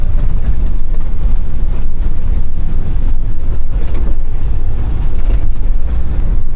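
A JCB skid steer rated at 74 horsepower, with a big engine, works dirt, giving a loud, steady, close engine rumble with constant mechanical churning.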